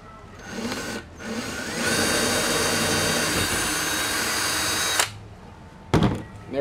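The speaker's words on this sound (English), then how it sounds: "And I'm going to drill all the way through." A power drill runs with a larger bit, boring all the way through for a wall-mounted PC build. It starts with a short burst, then a steady loud whine for about three seconds, stops, and gives a brief final burst.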